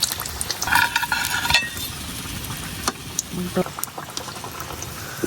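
Mughlai paratha frying crisp in hot oil, a close, busy crackle and bubbling sizzle with scattered clicks of a utensil, continuing under speech.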